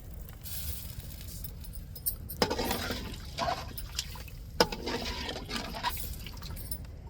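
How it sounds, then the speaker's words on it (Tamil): Tamarind water is poured into a cooking pot of fish curry, giving a steady liquid splashing with two sharper splashy bursts, heard close up with no talking. "இப்போ கரைச்சி வச்சிருக்கிற புளி தண்ணியை சேர்த்துக்கிடுவோம்"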